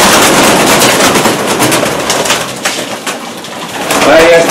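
Racing pigeons coo and flutter in a loft, a loud, busy mix of low cooing, wing flaps and rustling close by, with a voice briefly audible near the end.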